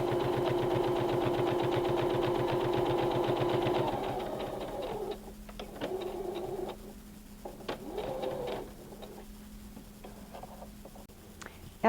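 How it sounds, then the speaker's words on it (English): A sewing machine stitches fabric placemat pieces together with a fast, steady mechanical whirr for about four seconds, then stops, leaving quieter fabric handling and faint clicks. "we're going to stitch pieces 1 and 2 together"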